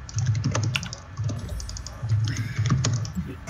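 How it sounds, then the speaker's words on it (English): Several people type on computer keyboards at once, clustered bursts of close clicking keystrokes with short pauses between them and no talking. "Why is everyone dashing their keys?"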